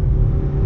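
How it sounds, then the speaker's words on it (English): A car engine held at high revs in sport mode, a loud, deep, continuous rumbling roar for a brief moment. "it's keeping the revs up for when we gotta pass this car up ahead"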